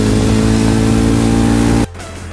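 A motorcycle engine drones loud and steady while riding, then cuts off abruptly near the end, leaving a quieter low hum.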